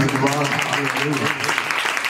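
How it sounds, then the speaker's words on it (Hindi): Worshippers at a church carol service clap together for a couple of seconds, with a steady wash of applause and a voice speaking over it. "सो प्रभु परमेश्वर दे नाम ते एक बार ताली बजाइए।"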